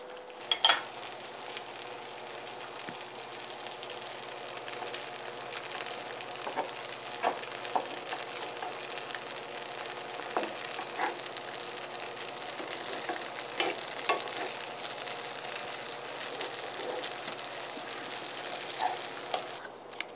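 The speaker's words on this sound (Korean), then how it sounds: "한 큰술씩 이렇게 도톰하게 구워주시면 돼요." Tofu and carrot pancakes pan-fry in oil, each a spoonful of batter, with a steady soft sizzle and crackle running the whole time, plus a few light clicks of a utensil against the pan.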